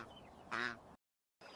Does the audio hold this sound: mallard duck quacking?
yes